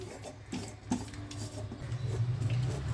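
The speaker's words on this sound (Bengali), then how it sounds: "এখন কিন্তু ছাড়বেন না, শুধু নেড়ে যাব।" A spoon scraping and rubbing through coconut and jaggery modak filling in a pan as the jaggery melts, a steady close rasping stir with soft clinks, no voices.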